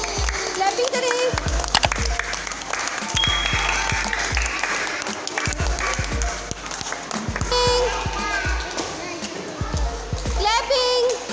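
Young children in a Montessori class game clap in loose, repeated bursts, a busy wash of small hands with children talking and calling out over it throughout.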